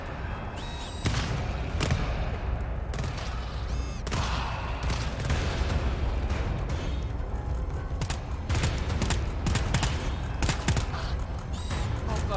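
Rapid bursts of gunfire crack repeatedly in a Valorant match, shots clustered in quick volleys with brief pauses, fairly close and continuous throughout.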